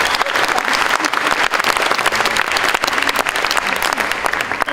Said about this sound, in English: Hans, an applause for Hans. Big hand.